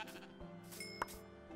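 Sheep bleating in the Minecraft video game, a short digital bleat with a brief peak near the middle over steady game background, with no talk.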